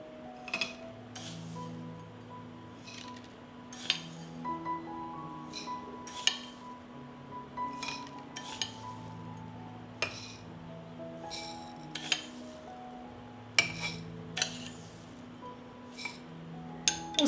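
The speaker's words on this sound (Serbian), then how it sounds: "U svaku teglu dodat ću po 3 supene kašike pirinča." Spoonfuls of rice dropped into glass jars during home canning, heard as a series of sharp clinks and light rattles at irregular intervals, close by and fairly quiet, with no talking.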